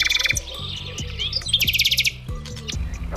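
A nightingale sings in a quick run of bright, high chirps and trills, clear and close, over a low, steady musical backing.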